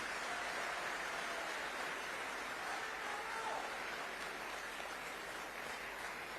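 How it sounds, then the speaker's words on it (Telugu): Sustained applause from a Telugu diaspora crowd at a Singapore political gathering for Andhra Pradesh CM Naidu. Even, hissing clapping holds steady and fairly distant for several seconds, with no talk over it. "గట్టిగా చప్పట్లు కొట్టి మీరు కూడా సహకరించాలి"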